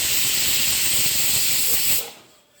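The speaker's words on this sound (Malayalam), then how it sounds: "ഹൈ ഫ്ലെയിമിൽ തന്നെ 3 വിസിലടുപ്പിക്കലാണ്." Pressure cooker on a high flame letting off a loud, steady hiss of escaping steam for about two seconds, then cutting off abruptly and leaving near silence.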